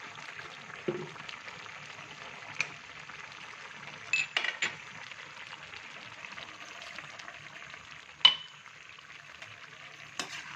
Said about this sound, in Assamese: এতিয়া এইটো আদা নহৰু পেষ্টটো হৈ গ'ল, সেইটো মিলাই দিওঁ